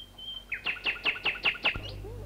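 A nightingale sings in a tree as a radio play sound effect: a run of about six bright, rhythmic chirping notes after a thin whistled tone, close and clear over a quiet background.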